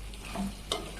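Chicken curry being stirred in a pan after chilli powder and turmeric go in, with a brief scrape and soft sizzle rising twice over a steady low background hum, close and alone.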